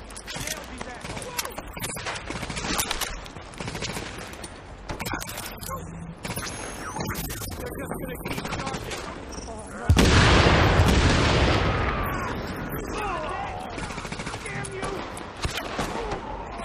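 Gunfire in The Division on PS4 Pro: rapid, dense volleys of shots through a busy firefight, with a loud burst around the middle and scattered shots continuing after, game sounds mixing throughout.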